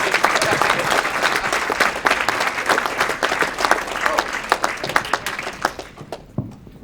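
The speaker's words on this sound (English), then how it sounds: "I feel that you should clap again" Dense audience applause at a LayerOne 2012 security conference talk, steady clapping from many hands throughout, loud and close, with a little voice activity underneath, thinning slightly near the end.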